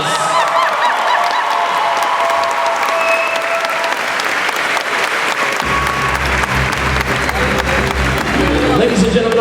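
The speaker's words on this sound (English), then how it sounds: "give them another big round of applause" A large audience at a Harry Potter celebration event at a theme park bursts into loud sustained applause with cheers and whoops, the clapping continuing steadily while voices rise over it.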